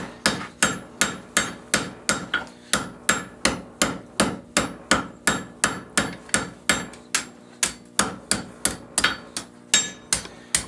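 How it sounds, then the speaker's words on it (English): A blacksmith hammers hot iron on an anvil to forge-weld it into one piece, with a steady, rapid run of loud, ringing metallic blows at about two or three per second, close up and with no talk. "Here we're now going to move to the anvil and weld it. Make it into one piece."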